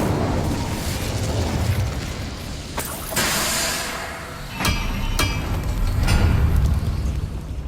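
An Incendio fire spell cast in Hogwarts Legacy bursts out in several loud whooshing blasts and crackling eruptions, separated by sharp transients, over continuous rumbling combat noise.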